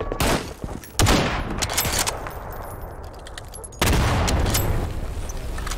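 Gunshots ring out in Garry's Mod: a sharp blast at the start, another loud burst about a second later, then a heavy sustained volley of gunfire near the end. The shots are loud and close, with no talking over them.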